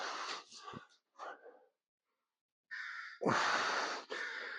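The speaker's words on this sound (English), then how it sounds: "Somebody got scared of the crow." A crow gives several harsh, raspy caws in short bursts, close and fairly loud, separated by a brief silence, with a few breathy sounds mixed in during a workout session.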